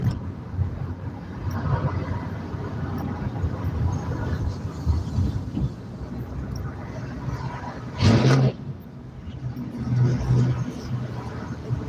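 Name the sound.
truck revving its engine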